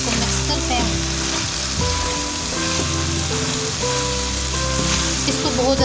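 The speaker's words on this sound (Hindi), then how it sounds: "इसको मिक्स करते हैं।" Potatoes and celery sizzle steadily in a frying pan while being stirred, with scraping and clinking under a continuous loud fry and no talking.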